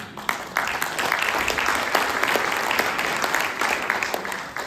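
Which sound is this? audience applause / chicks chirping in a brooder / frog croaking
audience applause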